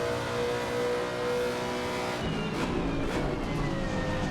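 A race car engine drones steadily in Assetto Corsa Competizione on the Nordschleife, with sustained harmonic tones that shift and swell midway as the revs change, loud and alone without talk.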